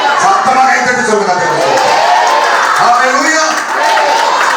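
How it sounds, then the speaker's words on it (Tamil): A church congregation bursts into loud clapping and shouts of hallelujah, a dense, sustained roar of hands and voices filling the room without pause. "ஒரு அல்லேலூயா சொல்லுங்களேன், சத்தமா கைத்தட்டி சொல்லுங்க."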